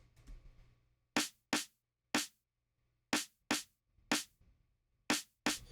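Eight sharp, tight snare drum hits from the Benzene Drip sample in the Mayo Collection, struck alone at an uneven pace, each crack bright and snappy with a quick decay and little low end.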